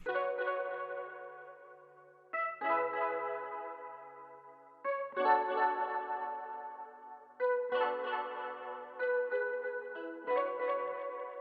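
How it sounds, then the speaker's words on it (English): A twangy, funky clavinet plays a sequence of major and minor chords, each struck and left to decay, with a new chord arriving every two to three seconds. "the first thing I had was this like clavinet sound"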